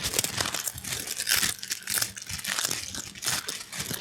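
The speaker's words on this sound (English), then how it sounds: "I'm going to raise this part, which is a little deeper, sound more like bones crunching in my imagination" A potato chip crunch effect, pitched deeper to resemble bones crunching, gives dense, continuous crackling and crumpling bursts, loud and close with no voices.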